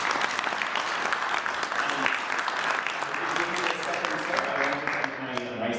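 Sustained audience applause fills a panel discussion hall as a speaker is invited up for his closing remarks; dense, steady clapping at even loudness throughout, with a faint voice emerging underneath near the end.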